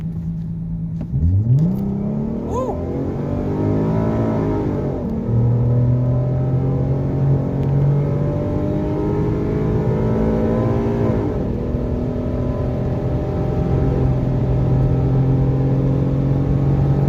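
A 2014 Ford Mustang with a 3.7 V6 and altered shift settings accelerates hard through its gears, the engine note climbing loudly, dropping at each upshift and climbing again, steady and close throughout.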